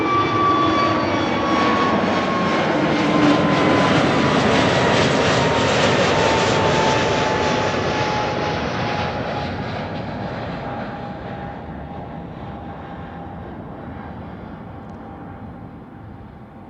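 An Airbus A321neo jet passes at Amsterdam Schiphol Airport, its loud engine roar and a gliding whine swelling early, then slowly fading as it draws away, with no talk.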